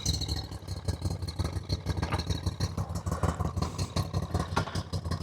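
Engine of a 2025 Voge 625DSX motorcycle while riding, a steady mid-pitched thrum with a rhythmic pulsing clatter, loud and close and alone.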